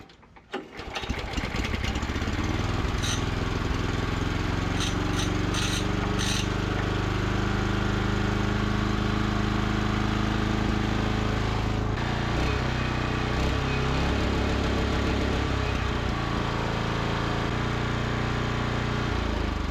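A small engine on a repair project runs continuously and loudly nearby, a steady buzzing drone that shifts in pitch as the throttle is pushed by hand, with a few clicks and knocks along the way.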